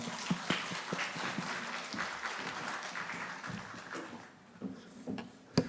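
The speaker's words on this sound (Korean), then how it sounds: "우리 목사님 나오실 때 격려하며 사랑의 박수 같이 하겠습니다" A church congregation at a special dawn prayer service claps as the pastor comes forward, a fairly quiet, uneven spatter of applause that thins out toward the end with a few scattered claps.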